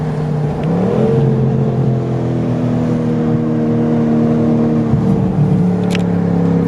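An Alfa Romeo Giulia Quadrifoglio accelerates through corners at Monticello race track, its engine note climbing and holding a loud, steady, strained drone from inside the cabin.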